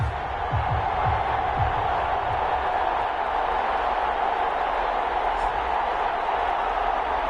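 Stadium crowd noise in a football video game, Dallas Cowboys against Toronto Thunderbirds: a steady, loud roar of cheering fans that holds evenly throughout, with a few low thumps near the start.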